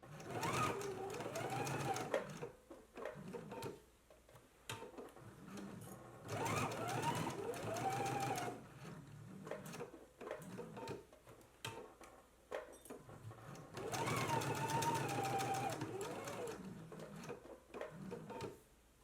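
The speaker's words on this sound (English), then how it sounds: "let's go ahead and stitch in a 5/8 of an inch seam allowance, again along the sides and the lower edge of the pocket" A sewing machine stitches a 5/8-inch seam allowance along the sides and lower edge of a dress pocket, running in three long bursts with short pauses between, close and steady, with faint background hum.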